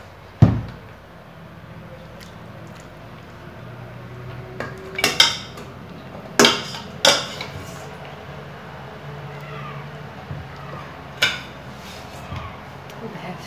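Utensil scraping and knocking against a dish while beans, small pieces of meat and potatoes are stirred together, with clinks that come as a few sharp bursts over a quiet kitchen background.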